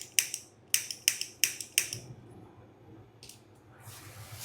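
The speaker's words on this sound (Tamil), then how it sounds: "இப்போ அடுப்பை பற்ற வச்சாச்சு." Several sharp clicks from a gas stove igniter, five quick snaps in the first two seconds, then a couple more after a pause, followed by a soft whoosh, in a home kitchen while a vegetable curry is being made.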